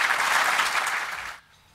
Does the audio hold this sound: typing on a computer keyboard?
no